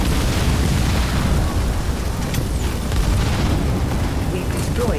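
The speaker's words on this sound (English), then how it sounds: "We've destroyed an enemy structure." Enemy structure blowing apart in the Halo Wars 2 real-time strategy game, a dense rumbling boom that rolls on steadily with crackling debris over busy battle noise.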